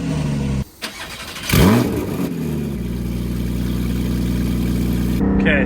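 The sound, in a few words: supercar startup with IPE exhaust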